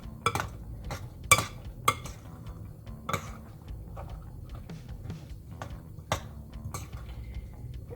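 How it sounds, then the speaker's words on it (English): A small spoon stirs taco salad in a bowl, giving scattered light clinks and taps against the dish at an irregular rhythm, quiet and close, with no talking. "I'm going to stir it up. Should be using a bigger spoon"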